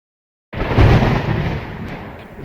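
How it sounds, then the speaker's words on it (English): A heavy thunder rumble breaks out of silence with a sudden deep boom, then rolls on loudly and slowly fades, all by itself with no voices. "This is a thunder."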